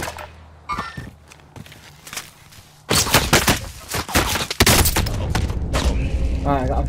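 Dense gunfire in the video game Call of Duty: Modern Warfare: scattered shots at first, then loud, rapid volleys with heavy bangs and thuds that continue to the end.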